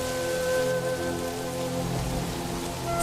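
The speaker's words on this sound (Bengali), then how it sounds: "বৃষ্টি তো আল্লাহর রহমত" Steady rain falls on a rural home's surroundings on a wet, muddy day, a continuous dense patter and hiss that stays even and fairly loud throughout, with no voices.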